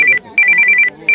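A phone ringtone plays loud and close in bursts of bright, repeating electronic chirps, with short pauses between the bursts.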